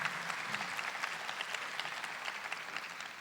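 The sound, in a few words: audience applause for elderly people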